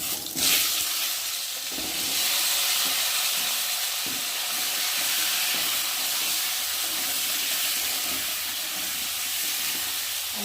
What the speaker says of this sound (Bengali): আর এখন আমি কেটে রাখা আলুগুলোকে দিয়ে ফার্স্টে ভেজে নেব।